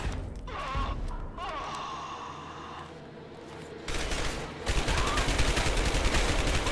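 Assault rifle fire in the video game Dark Sector, loud rapid bursts of gunfire with a sustained stretch of shots near the end, over a continuous game soundscape.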